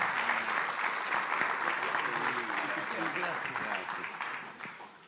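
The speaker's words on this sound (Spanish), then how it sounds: "Vamos a darle un aplauso al Señor" Sustained audience applause fills a church, steady at first and gradually fading, with voices faintly mixed in beneath the clapping.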